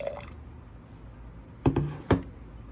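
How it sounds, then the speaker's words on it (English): Water is poured into a jar of sugar, giving faint liquid drips followed by two short knocking splashes near the end of a quiet stretch. "simply add enough water to fully saturate the sugar"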